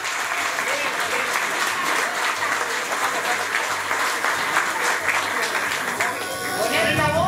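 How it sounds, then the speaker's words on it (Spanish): Loud, steady applause from the crowd at a fishing club gathering in Minas, Lavalleja, Uruguay, after a Christmas basket raffle winner is announced. The clapping is sustained and dense, with a few voices audible near the end. "Fuerte el aplauso para ella."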